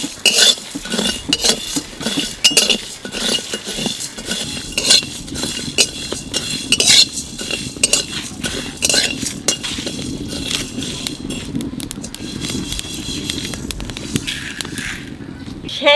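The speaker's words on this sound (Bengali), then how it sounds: "মাংস রান্নার আগে শুকনো খোলায় করে মশলা বাজিয়ে নেবো" Whole spices — dried red chillies, fennel, cumin, coriander and black peppercorns — dry-roasted in a dry pan before cooking meat, with a steady clatter and scraping of a utensil against the pan and a voice talking over it.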